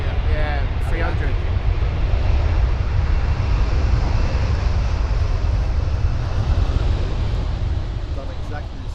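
A Boeing 737-300 airliner at Stansted gives a loud, close, continuous low-frequency engine roar with a brief whine at the start, sustained throughout with voices faintly present.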